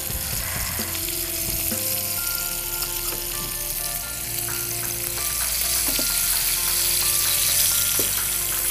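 Prawns fry in a pan with a steady loud sizzle and crackle, occasional stirring clatter and faint tonal hum in the background, continuous and close.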